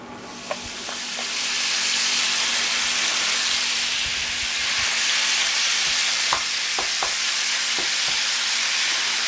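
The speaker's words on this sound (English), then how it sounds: "I am going to saute my ground beef" Ground beef sautéing in olive oil in a pan on a stovetop burner, a loud, constant close-up sizzle with a few sharp spatters and clicks scattered through it.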